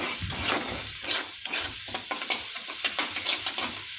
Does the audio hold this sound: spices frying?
yes